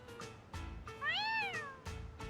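A cat in Yakuza: Like A Dragon lets out one clear, drawn-out meow, close and distinct, over a quiet pulsing background.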